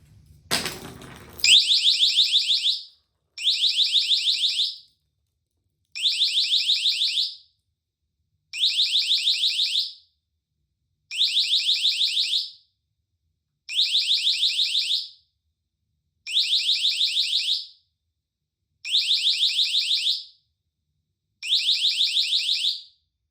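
A Nextorch ND-30 distraction device in mode 3 sounds nine loud, shrill electronic alarm bursts, each about two seconds long and separated by short silences, with a brief clatter at the start.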